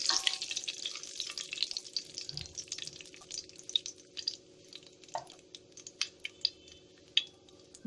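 Curry leaves dropped into hot oil, with cumin already in the pan, sizzle and crackle with scattered sharp pops and light clinks, a fairly quiet, close frying hiss with no voices.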